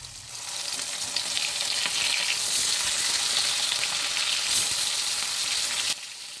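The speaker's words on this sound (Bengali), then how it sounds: "একটা কড়াই সর্ষের তেল গরম করে নিলাম তারপর এর মধ্যে এক এক করে মাছগুলো ছেড়ে ভেজে নেবো" Hilsa fish frying in hot mustard oil in a kadai makes a loud, steady, bright sizzle that holds for about six seconds and then drops away sharply near the end.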